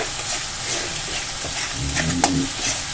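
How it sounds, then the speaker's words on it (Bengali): Yogurt and spices sizzle loudly in a pan over medium flame while being stirred, a close steady frying hiss with a few scraping strokes toward the end. "দিয়ে আমি দেখো ভালো করে মিশিয়ে নাড়াচাড়া করে নিচ্ছি।"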